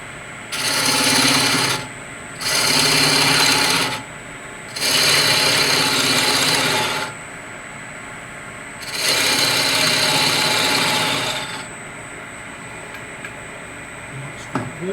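Wood lathe tool chamfering the edge of a spinning wooden candlestick turned off centre, four loud close bursts of scraping and cutting, each two to three seconds long, separated by short pauses with a faint motor hum.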